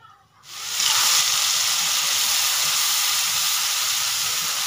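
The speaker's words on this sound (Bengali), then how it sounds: "এবার আমি পেস্টটা ঢেলে দেব।" Spice paste hits hot oil already fragrant with whole cumin, bay leaf, cinnamon, clove and cardamom for a vegetarian matar paneer, setting off a sudden loud, sustained sizzle that stays steady and close with no talk.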